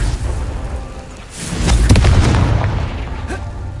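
A Confringo blasting spell in Hogwarts Legacy on PlayStation 4 Pro sets off a deep booming explosion that swells and rumbles for over a second, with sharp crackling bursts on top and game ambience around it.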